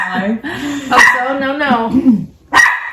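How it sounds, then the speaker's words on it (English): A Chihuahua barks in shrill, yappy bursts, mixed with whining, close by and loud. "I don't know why the Chihuahua is barking his head off"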